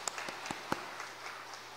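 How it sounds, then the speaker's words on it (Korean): Sparse, quiet clapping from a church congregation at a Thanksgiving Sunday service, a handful of distinct claps over a faint background, fairly distant and brief. "박수 한번 하세요."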